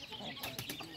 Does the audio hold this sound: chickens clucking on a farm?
yes